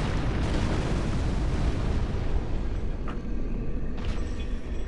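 A pyromancer hurls fire in Dark Souls 3, and a dense, roaring burst of flame and rumbling blast fills the whole stretch, loud and continuous, with a couple of sharper crackles near the end.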